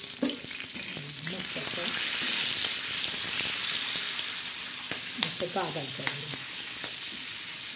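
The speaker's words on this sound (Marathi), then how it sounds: "आणि चमचमीत असं मिरच्या आपण तळत आहोत." Green chillies fry hard in hot oil, a steady loud sizzle hissing throughout, with occasional clinks and scrapes of a spatula pressing them down while someone speaks over it.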